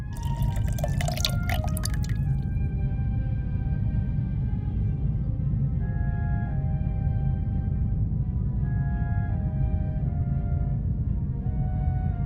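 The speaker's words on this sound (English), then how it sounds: "I think it's better to drip the solution on the swab instead of dipping the swab into the solution." Solution dripping onto a swab during a forensic blood-sample test in a detective video game, with a few bright liquid drips early on over a steady low ambient hum that carries through the rest.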